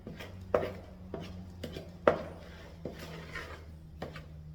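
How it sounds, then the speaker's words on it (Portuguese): A spoon mixes lemon cookie dough in a bowl, giving a series of dull, evenly spaced knocks and scrapes, about one per second, close by over a low steady hum. "a gente tá misturando com a colher por enquanto"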